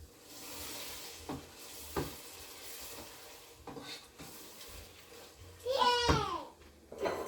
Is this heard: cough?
no